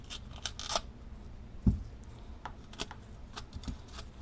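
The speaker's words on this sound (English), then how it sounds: "I'm going to take my tape, and then I'm going to cut the tape" Adhesive tape pulled from the roll and snipped while sealing a gap against mice, a few short crisp tearing and cutting sounds close by, with a thud partway through and no talk.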